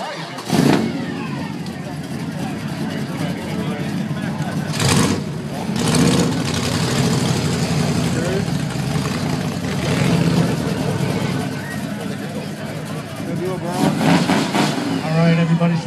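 At a car show's engine revving contest, a car engine rumbles loudly and is revved in repeated bursts, with a crowd talking and cheering throughout.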